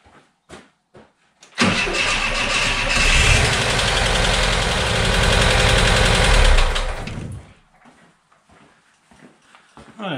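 A VW T3/T25 van engine cranks, catches and settles into a loud, steady close-up idle for several seconds before cutting off, with a few clicks and knocks around it.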